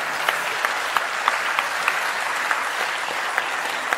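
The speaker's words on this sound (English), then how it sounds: "And they're also clapping." An audience claps continuously, a dense steady patter of many hands with a few sharper claps standing out, heard from within the room.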